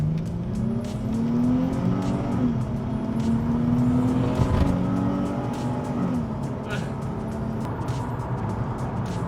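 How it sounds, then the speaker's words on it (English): A stock 2003 Nissan 350Z with a 3.5-liter V6 revs up for a pull, engine pitch rising and falling steadily over several seconds, loud and continuous, with a voice briefly heard over it. "let's rev up the engine"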